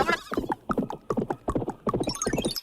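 Horse hooves clip-clopping in a steady galloping rhythm, loud and close, with no talk over them.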